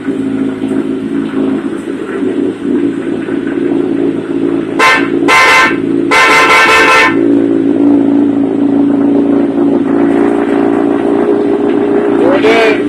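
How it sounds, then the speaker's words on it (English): Upgraded horn on a 2011 Kawasaki Ninja ZX14 motorcycle with the engine running, honking in a few short, loud blasts and one longer blast over a steady idle, close by. "Horn is upgraded."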